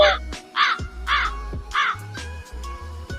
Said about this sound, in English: That was an awkward crow.